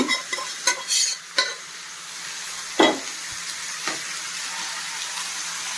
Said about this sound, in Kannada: ಆನಿಯನ್ ಫ್ರೈ ಆಯಿತು ಈಗ ಕಾಳು ಹಾಕ್ಕೋತೀನಿ